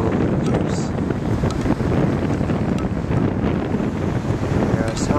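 Steady wind buffeting the microphone outdoors among cherry blossoms in Washington, D.C., a continuous broadband rush with faint voices underneath throughout.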